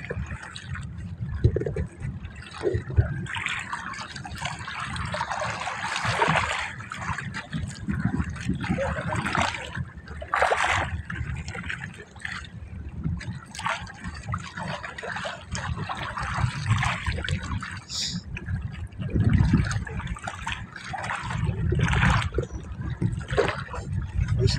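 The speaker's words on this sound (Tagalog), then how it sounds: "Karoon na naman ang alon." Waves slosh and splash continuously nearby on Manila Bay in strong northeast monsoon wind, with irregular bursts of surging waves over a steady watery rumble.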